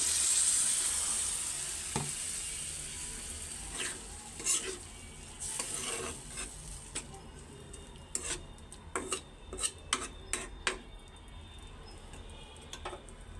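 Potatoes frying in a pan with spices until reddened, giving a steady soft sizzle with occasional stirring scrapes and clinks of a utensil against the pan, growing busier toward the end, with no talk.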